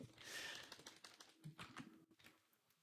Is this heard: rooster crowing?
no